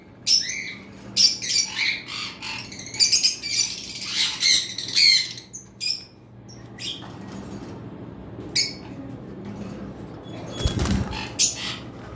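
Pet cockatiels, lovebirds and budgerigars kept in cages at a bird sale give sharp squawks and chirps in repeated bursts, close and fairly loud, with a brief wing flutter near the end.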